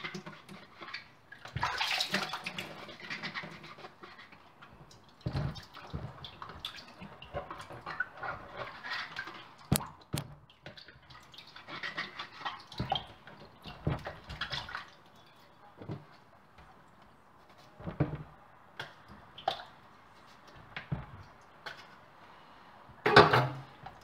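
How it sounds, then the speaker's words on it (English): Vegetables being washed by hand in a basin of vinegar and water, with quiet splashing, dripping and sloshing in irregular bursts, fairly close and soft, alongside occasional light knocks of dishes. "I always clean our vegetable with vinegar and water."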